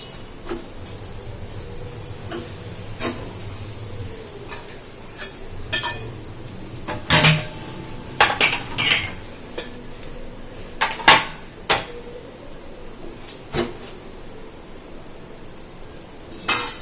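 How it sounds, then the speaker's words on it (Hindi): Metal puja utensils used in worshipping God being washed by hand, with clinks, clanks and scraping of pots and plates in irregular bursts, close by, with running water or hiss underneath and no talking. "मैं कर रही हूँ भगवान जी के बर्तन साहब"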